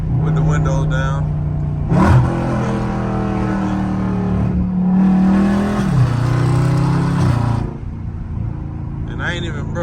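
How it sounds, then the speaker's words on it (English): A Dodge SRT engine hums steadily, then briefly revs up twice as it downshifts in manual mode. The revs drop each time, and the engine stays close and prominent. "It's gonna be just downshifting everywhere I go."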